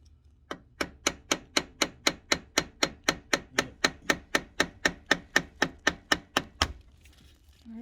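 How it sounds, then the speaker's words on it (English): Hammer blows on a flathead screwdriver driven against the stuck oil filter of an Onan QD 6000 RV diesel generator: about twenty sharp, evenly paced metallic strikes, close and loud, then a stop. "A flathead and a hammer to loosen up the filter."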